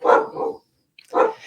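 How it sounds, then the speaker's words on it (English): A dog barks twice in quick succession, close and fairly loud, with a short silent gap between the two barks. "my dog's freaking out now."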